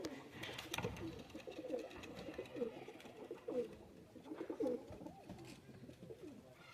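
Nil Dumba pigeons coo softly in repeated low, rolling phrases, with faint background murmur, close by and fairly quiet.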